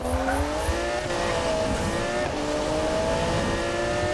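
Engine of a car in the Need for Speed racing game, steady and loud with rising revs and gear shifts, a continuous droning whine that climbs in pitch.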